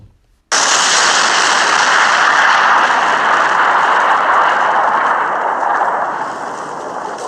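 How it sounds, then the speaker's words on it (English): A flagship spaceship explodes in a science-fiction story, a loud sudden blast that swells into a sustained roaring rumble and slowly fades, with no voices. "King David's fleet began to immediately move away from the flagship as it exploded"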